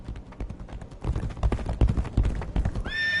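A horse with a rider on its back clip-clops past, steady hoofbeats close and fairly loud over a few seconds, followed by a high whinny at the end.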